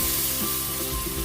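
Loud, steady sizzle of chicken afritada frying in a pan as water hits the hot oil, a brief hissing crackle throughout.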